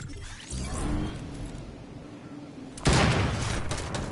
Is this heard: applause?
no